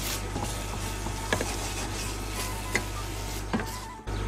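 Crushed tomato goes into a pan of sizzling creamy rice with lettuce and mussels, a steady frying hiss under scraping stirs and a few sharp clicks of the spoon against the pan.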